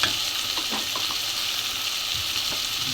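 Potatoes fry in a pan with turmeric powder, giving a steady, loud sizzle with occasional scraping stirs underneath, and no talking.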